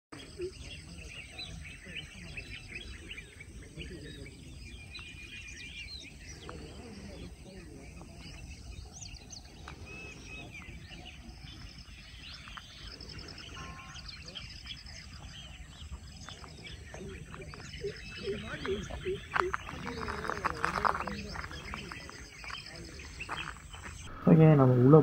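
Soft outdoor ambience in a secluded natural spot near Chennai, with faint scattered bird chirps and a steady insect and cricket hum running throughout, growing a little louder and busier toward the end.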